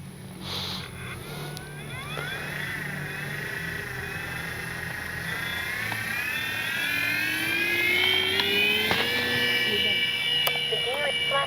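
An FMS P-47 Thunderbolt RC plane on its maiden flight takes off with flaps down, its electric motor whine climbing steadily in pitch and growing louder as it accelerates away, with wind noise and a voice speaking over it.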